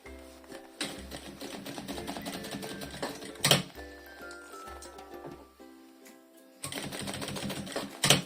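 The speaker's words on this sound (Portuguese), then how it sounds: "Vamos lá fazer então a costura pé de máquina." Domestic sewing machine running a presser-foot seam around a fabric toiletry bag, with bursts of steady rapid stitching broken by short pauses and a sharp clack, close and fairly loud.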